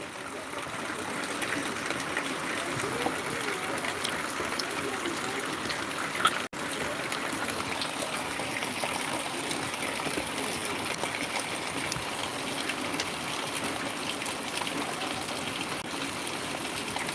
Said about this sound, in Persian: وای که بارون سخته